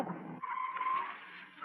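A car brakes hard to a stop with a short tire squeal, the skid rising then fading over about a second, loud and close with no voices.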